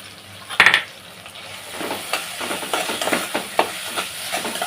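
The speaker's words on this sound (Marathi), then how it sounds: "हे सुद्धा व्यवस्थित तेलावरती मारून घ्यायचं आहे." Ground coconut paste dropped into hot oil in a pan for an Agri-style fish head kalwan, first a sharp splash and sizzle, then crackling frying with repeated scraping stirs of a spoon against the pan.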